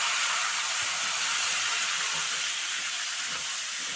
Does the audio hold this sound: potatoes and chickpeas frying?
yes